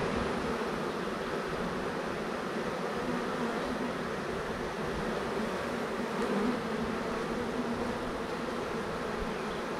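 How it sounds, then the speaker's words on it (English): A dense, continuous buzzing of many honeybees inside a hive, close and steady throughout with no pauses. "The quantity of bees in this hive is down."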